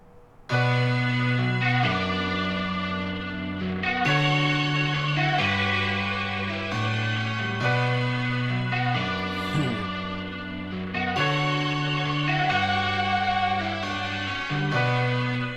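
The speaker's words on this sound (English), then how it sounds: "it's just some bells playing" Bright, ringing bell tones play a repeating melodic pattern in a steady beat, notes sustaining and overlapping, loud and clear with no talking.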